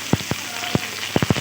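Rice added to a pan and fried for fried rice gives a few soft, close sizzling taps and scrapes in short bursts, with no talk.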